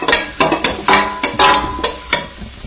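Roasted curry leaf powder stirred and sautéed in a pan for curry leaf rice, with a spatula scraping in repeated rhythmic strokes over a light sizzle, close and fairly loud.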